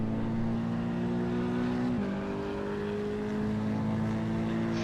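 A small car's engine in the Assetto Corsa EVO racing game drones steadily at high revs, with a brief dip in pitch as it shifts, then holds a loud, continuous hum alone.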